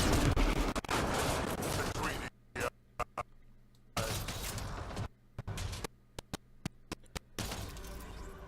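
Bursts of gunfire in Mass Effect Andromeda, a loud sustained volley at first, then short sharp shots spaced out between quiet gaps, with talk heard among them.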